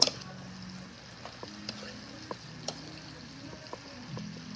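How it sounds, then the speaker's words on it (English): Eggplant caponata with oregano and pepper sizzles softly in a pan, a low steady frying hiss broken by light clicks and taps of stirring, fairly quiet with no talk. "we're sizzling all over the place."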